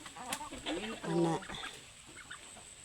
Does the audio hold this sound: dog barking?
no